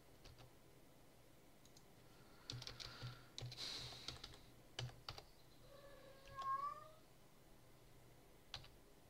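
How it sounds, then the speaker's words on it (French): Indoors beside a computer, a house cat gives one short, clear meow partway through, while keyboard typing and mouse clicks tap on and off around it at low volume. "Tais-toi le chat."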